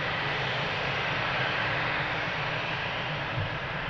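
An American Airlines airliner on approach to runway 02 at Lisbon Airport, a steady broadband engine roar, fairly loud and constant across four seconds, with no voices.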